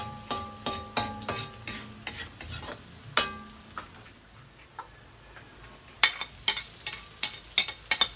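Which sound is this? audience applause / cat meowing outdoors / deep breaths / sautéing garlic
sautéing garlic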